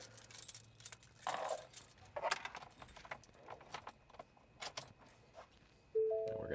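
Keys jangle in short metallic bursts while being swapped at the ignition of a 2020 Ford F-250 during key programming, followed by a brief electronic chime at the end.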